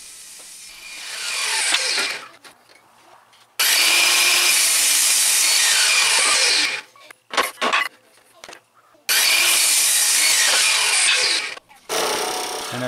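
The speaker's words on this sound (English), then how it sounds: "I went to the table saw just to cut off a bunch of the excess board" Table saw trims excess from a wooden board: bursts of loud, harsh cutting noise alternate with quieter gaps and short clattery handling sounds, close by, across several passes.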